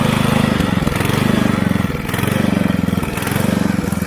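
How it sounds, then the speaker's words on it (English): A motor driving a firewood conveyor converted from a hay elevator runs at full throttle, a loud, steady, close engine drone with a fast, even pulsing beat and a slight rise and fall in tone. "Now this motor is at full throttle."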